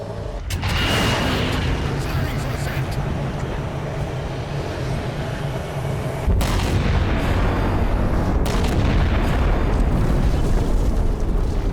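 A ship's massive cannon fires in the Halo 4 video game, a loud sustained booming roar that swells and rumbles on for many seconds, growing heavier partway through.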